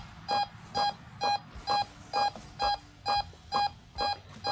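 An INAV flight controller aboard an ATOMRC Dolphin plane gives a run of ten short, bright beeps, evenly spaced about half a second apart and clearly audible over a quiet background.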